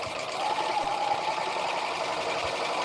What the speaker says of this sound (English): I'm making sure as I'm going under the serger, because this fabric is very stretchy